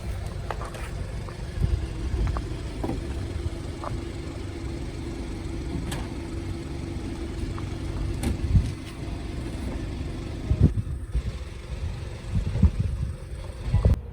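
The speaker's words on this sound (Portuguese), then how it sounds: "E agora o mesmo procedimento, só que para abrir a capota" A BMW 420i Cabriolet folds its convertible roof open: a steady low mechanical whir over a running engine, broken by a few soft clunks and clicks near the end, with no talk.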